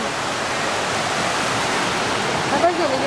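The Oxtongue River rushes over a waterfall in Ontario, a steady, dense roar of falling and flowing water that stays close and constant throughout, with only a brief faint sound near the end.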